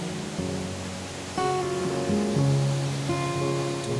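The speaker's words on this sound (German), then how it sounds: "Übersetzt ist das hier der Wasserfall der Trolle." The Waterfall of the Trolls in an Icelandic rock gorge rushes as a steady, broad hiss of falling water, partly covered by calm, sustained musical notes.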